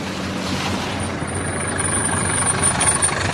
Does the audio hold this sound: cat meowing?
no